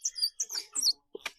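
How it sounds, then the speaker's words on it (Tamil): A squirrel calling from palm trees during a hot-weather outing: a quick run of faint, sharp chirps and squeaks, several short bursts in rapid succession followed by a brief pause and two final clicks. "அணில் இப்படியே கத்தும்."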